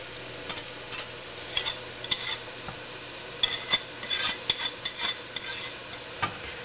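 Butter melts in a pan under a quiet, low sizzle while a wire whisk scrapes and taps against the metal in irregular bursts, close and clear, with no voices.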